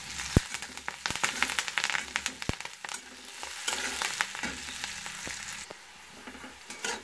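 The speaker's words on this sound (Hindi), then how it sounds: "अब इसे मैं प्याज को ट्रांसपेरेंट होने तक भून लूंगी।" Onions and curry leaves fry in a pan, giving a close crackling sizzle broken by sharp spoon clicks and scrapes against the metal, irregular and busy, with no voices.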